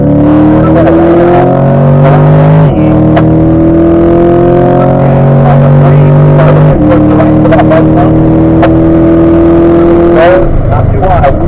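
Chevrolet Corvette C8 race car accelerating hard on a racing circuit, its engine climbing loud and close through two upshifts and holding a high roar, with an instructor's voice talking over it inside the car.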